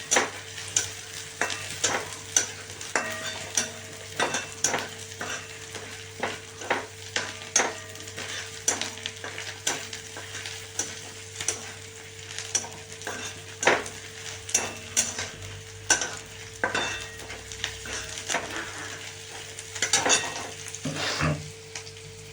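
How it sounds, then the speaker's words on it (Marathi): Seeds fry in hot oil in a pan for a paneer masala dish, with a steady sizzle and frequent rhythmic clinks and scrapes of a spatula stirring against the metal pan, close and clear. "हे पण आपण काय करूया तेलात टाकूया म्हणजे त्या बी नॉर्मली तळतीला"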